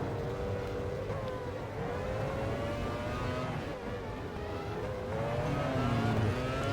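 Formula 1 race car on a Monaco hot lap in a 1996 racing game, its engine a continuous high buzzing whine that rises and drops with gear changes, steady and close with no voices.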